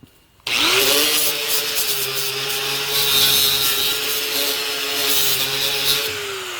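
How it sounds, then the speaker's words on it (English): An angle grinder works over a light switch wall plate held in a clamp, starting abruptly after a brief quiet moment and then holding a loud, steady high whine with a harsh grinding hiss close by. "grab your angle grinder and go ahead and start cleaning up your wall plate"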